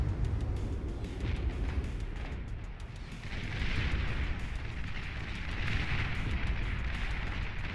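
Ships and Tech 1 construction vessels being destroyed in the strategy game Beyond All Reason produce a dense, continuous roar of explosions and crackling blasts, swelling in waves at moderate distance.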